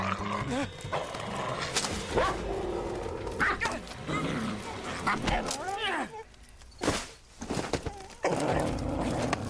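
A Doberman barks and whimpers at close range in a few short bursts, mixed with rising whine-like cries, while people talk over and between the dog sounds.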